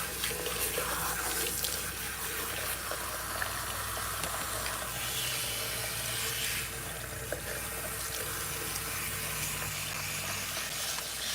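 A salon sink tap runs steadily as a client's hair is rinsed, with a continuous close hiss and splash of water that changes a little as the stream moves over the hair.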